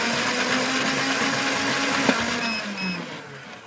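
Electric flywheel motors of a Nerf Elite blaster, upgraded to run on 11.1 volts, whir steadily at a high pitch, with the tone falling away near the end as the motors spin down. There is a faint click near the middle.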